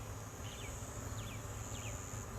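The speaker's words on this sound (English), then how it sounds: "Lots of bees though, so good." Honey bees at a backyard hive give off a steady, faint buzzing under constant background hiss, with a few brief higher chirps mixed in.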